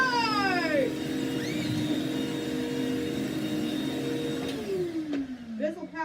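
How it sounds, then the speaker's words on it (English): A Bissell LiftOff multi-cyclonic vacuum cleaner runs with a steady motor drone and whine, then its pitch sweeps down as it winds off near the end, with a brief voice over it. "so the Bissell LiftOff multi-cyclonic. Ha ha! Charge!"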